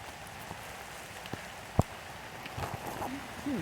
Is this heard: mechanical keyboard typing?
no